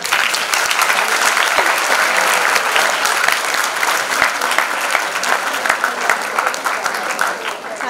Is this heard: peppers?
no